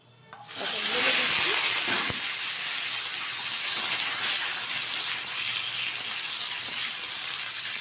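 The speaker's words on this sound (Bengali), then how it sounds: "বেগুনটা একটু ভেজে নেব" A loud hissing sizzle erupts after a brief quiet moment and then holds steady, like eggplant pieces frying in hot oil.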